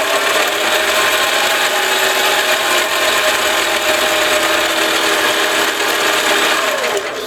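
A small ENCO 7x10 metal lathe runs steadily at about 1,100 RPM with a continuous bright whirring hum of motor and gears, close and fairly loud, with no talking.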